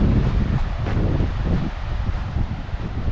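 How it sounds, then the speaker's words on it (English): Outdoor wind gusting at roughly ten miles an hour beside a short grass airstrip, a constant heavy low rumble buffeting the microphone with rustling overtones, loud and unbroken throughout. "I'm walking into probably a 10-mile-an-hour wind."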